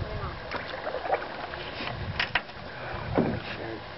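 Paddles dipping and splashing in water from a small rowboat or canoe, a few uneven strokes close by, mixed with nervous family voices talking and calling out over the water.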